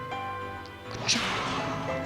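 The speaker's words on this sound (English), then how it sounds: "Its arm slices through the air, smashing the window into tiny shards, which scatter across the hallway floor." A window is smashed into shards by a metal arm in the Hatoful Boyfriend game: a sharp crash bursts out briefly over steady background music, with no talking.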